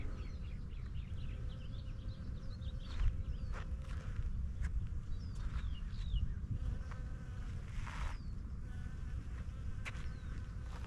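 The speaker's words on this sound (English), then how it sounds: "Try not to disturb the bees." Bees buzz softly around outdoors in Peter's Canyon Regional Park, their drones rising and fading as individual insects fly past, with faint chirps of birds in the background.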